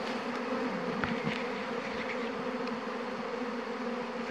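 Honeybee swarm buzzing near beehives, a dense continuous hum holding steady at close range with a few individual bees droning past, no voices.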